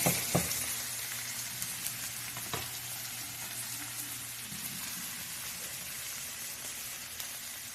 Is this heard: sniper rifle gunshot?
no